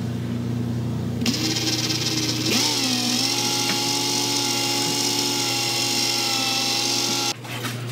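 A drill boring pilot holes into a boat hull, whining steadily at high pitch for several seconds after a brief start, then cutting off abruptly near the end.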